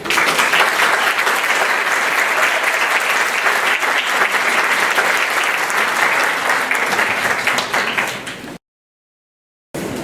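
Audience applause after a keynote lecture on North America and Trump-era policy, a dense sustained clapping from a large crowd that runs steadily for over eight seconds, then cuts to silence before a brief return.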